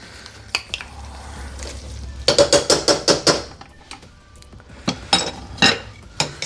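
Honey sauce with garlic butter stirred in a metal pan on medium-low heat, a run of quick clinking scrapes and taps of utensil against pan in two bursts, close and fairly loud, with no one talking.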